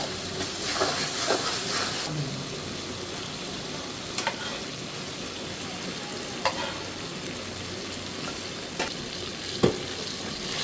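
Tomato frying in a pan with fried catla fish and onions nearby, giving a loud continuous hissing sizzle broken by several sharp scrapes of a spatula stirring, with no talking.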